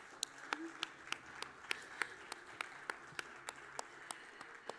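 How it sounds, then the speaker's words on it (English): Sparse, faint applause from a conference audience, a thin scattering of separate claps spaced at an uneven rhythm over low background murmur. "Could you please give yourself a huge round of applause for being such a phenomenal audience?"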